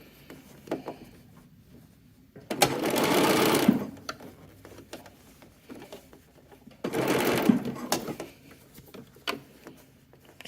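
A sewing machine sews a tight seam on a baby garment made from McCall's pattern 8265, two separate runs of rapid stitching about a second long each, with quiet handling and fabric noises in between.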